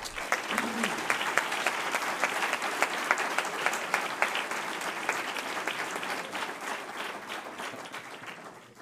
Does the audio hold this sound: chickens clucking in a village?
no